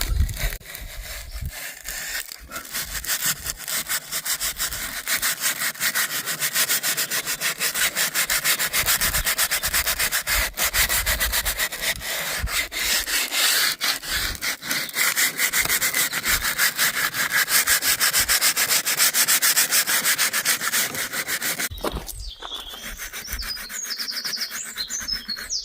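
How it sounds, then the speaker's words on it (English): Varnish being rubbed off a wooden cottage chair by hand, a steady, close, continuous scrubbing and sanding rasp with rhythmic strokes, brief pause near the end, faint birdsong in the background. "It's not taking much to remove the varnish actually"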